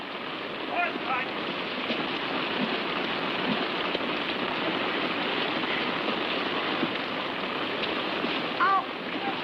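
Steady rain patters and hisses on a surface throughout, a dense even wash with a few faint higher chirps briefly breaking through.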